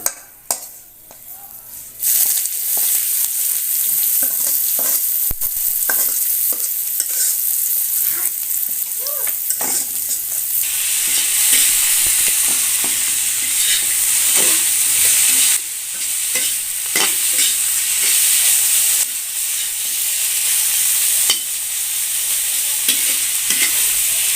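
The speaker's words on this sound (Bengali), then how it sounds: "এই যে দেখুন শাকটা আমার ভাজা হয়ে গেছে" Helencha greens fry in oil with dried red chilies in a village kitchen, a loud continuous sizzle with repeated stirring strokes and occasional spatula clinks against the pan.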